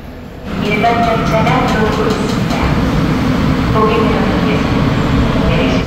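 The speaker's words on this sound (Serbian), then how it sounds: "E, ovo je metro." Seoul subway metro train running, a loud, steady rumble and rolling clatter inside the carriage, with a few tonal hums and a passing voice in the background.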